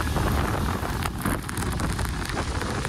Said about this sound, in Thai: ต้นไม้ในเมืองแทมปาลู่ไปตามแรงลมท่ามกลางฝนตกหนักหลังจากพายุเฮอริเคนมิลตันพัดขึ้นชายฝั่งตะวันตกของรัฐฟลอริดา